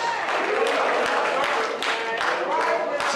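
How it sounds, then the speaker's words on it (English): A church congregation claps along during an anniversary service at Sunflower Hill, a steady, dense patter of many hands filling the whole stretch while a voice talks loudly over it. "you ought to be clapping your hands"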